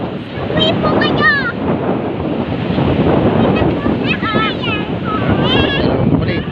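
Ocean waves rolling in on a windy day. The surf makes a continuous loud roar that is heavily buffeted by wind noise on the microphone, and voices talk over it throughout.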